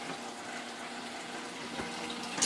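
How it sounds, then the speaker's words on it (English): Pumped water splashes back into a tank through the return line of a BRS reactor plumbing setup, a steady, close hiss of running and pouring water with no break. "here's where the water comes back to the tank"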